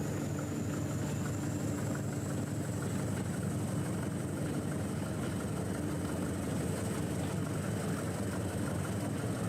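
A diesel 'thumper' train engine gives off a steady, continuous low drone with a faint high whine, unbroken and without any talking.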